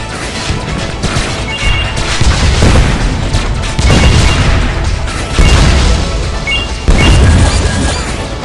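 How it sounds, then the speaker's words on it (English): Explosion strike attack in the mobile shooter game WinWing: a series of loud booming blasts and crashes, roughly four heavy impacts spaced over a dense, continuous barrage of gunfire and rumbling noise. "Explosion strike."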